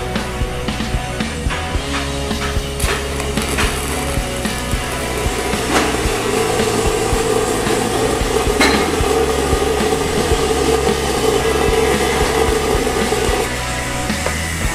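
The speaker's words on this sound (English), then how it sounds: "We're ready to start welding on this." Welding tack on 4-inch schedule 80 open butt V-groove pipe, a loud, close, continuous crackling buzz with scattered sharp pops and knocks throughout, no speech.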